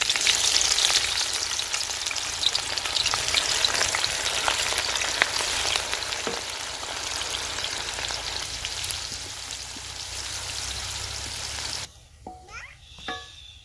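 Two medium onions frying in hot oil in a kadai in a Pakistani village kitchen, a steady close sizzle and crackle that cuts off near the end, leaving a few faint clinks.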